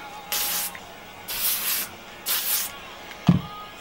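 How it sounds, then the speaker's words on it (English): Hairspray misted over the top of curled beach-wave hair in three short hissing bursts, then a soft knock. "your hairspray. Just the top."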